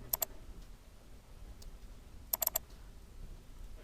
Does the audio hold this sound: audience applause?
no